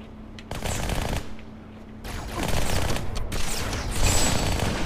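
Bursts of weapon fire in the video game Halo 2 come in rapid, loud volleys with short pauses between them, set against game background noise.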